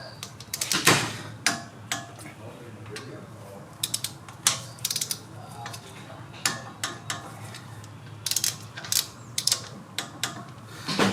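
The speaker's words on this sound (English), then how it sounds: "Now we're going to torque down the caliper, 55 foot-pounds." A torque wrench tightens the brake caliper bolts on a GMC 2500 HD Denali front brake. Close, sharp ratcheting clicks come in short bursts with pauses between them, and there is no talking.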